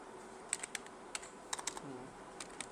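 Faint, sparse keystrokes on a computer keyboard while entering text in MS Word, scattered single clicks and small clusters over a low room hum.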